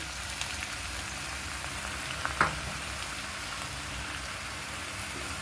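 Vegetables and seeded banana frying in a pan give off a steady, even sizzle that holds throughout, with one faint clink partway through and no voices.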